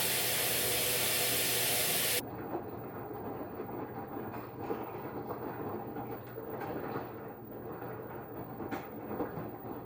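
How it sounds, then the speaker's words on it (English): Water spraying into the drum of an LG WM8100HVA front-load washer: a loud broadband hiss for about two seconds, then a softer steady rushing with faint clicks and splashes, close up, with no talk. "Literally, the water spraying into the machine is louder than the machine is during the entire wash cycle."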